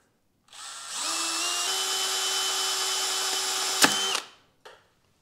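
A power drill whirs steadily for about three seconds while drilling out a broken bolt tip in a BMW M54 engine, then a sharp crack or snap as it stops, followed by a brief clunk.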